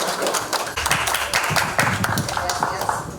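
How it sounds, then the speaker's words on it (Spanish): A press-conference audience applauds after a speaker's appeal for a doctor, a dense, steady patter of many hands clapping at close range for a few seconds without pause. "Por favor, aplausos para ella."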